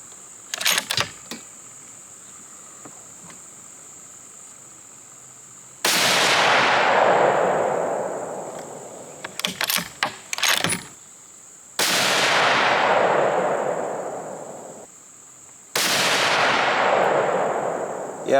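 Three loud, sharp .308 rifle shots fired with Barnes Harvest Collection 165-grain ammunition, spaced several seconds apart, each with a long decaying echo rolling over open ground, alongside a few quieter clicks and handling noises.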